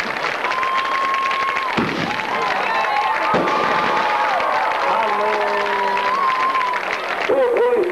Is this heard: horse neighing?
no